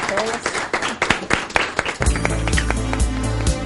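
Applause at the close of a Mexican Chamber of Deputies migration affairs commission session, a room of people clapping steadily and fairly close, followed by a music sting.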